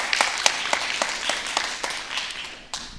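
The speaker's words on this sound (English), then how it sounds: "Let's give a good round of applause for Anjali." A short burst of scattered clapping from a small group, uneven claps over a steady background hum, fading toward the end.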